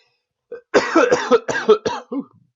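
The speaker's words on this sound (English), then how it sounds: "coughing fit here" A burst of repeated harsh coughs, about six in quick succession, loud and close, with no talking.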